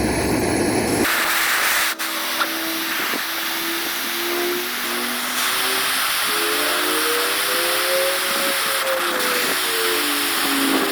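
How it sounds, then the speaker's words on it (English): Steady loud hiss of a burner with a rising whistle-like tone from water coming to a boil, continuous throughout. "Already boiling in the middle."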